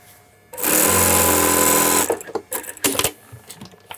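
Close by, a sewing machine runs in one steady burst for about a second and a half while stitching a bespoke shirt hem, then stops, followed by scattered light handling and fabric noises.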